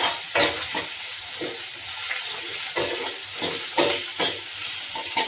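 Potato curry with salt and turmeric is stirred in a pan, a steady frying sizzle broken by a string of scraping stirs every half second or so, close and alone with no talk.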